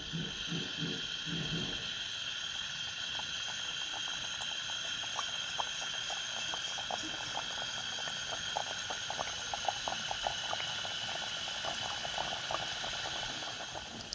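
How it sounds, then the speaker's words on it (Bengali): Crisp mung dal nimki deep-fry in hot oil with a continuous, dense bubbling and crackling that stays at an even level throughout, close and with no voices. "এইভাবে করে আমি বাকি নিমকিগুলো ভেজে নেব"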